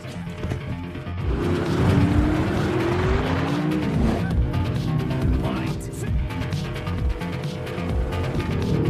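Car chase in an action film, racing cars weaving between two container trucks: loud continuous engine roar with rising revs, tire squeals and skids sweeping through, dense and close throughout with no talk.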